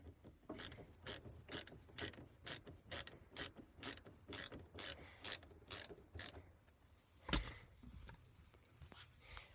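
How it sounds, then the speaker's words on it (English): Screwdriver tightening a Phillips head screw on a 1997 Dodge Ram 1500 door panel, a steady series of quiet clicking ratchet turns at an even pace, then one louder knock near the end. "So tighten your Phillips head screw here"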